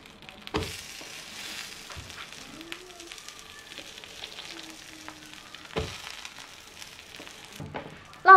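A layered meat pie, brushed with oil, pan-fries under a lid with a soft continuous sizzle, broken by a few sharp clanks and a louder knock near the end.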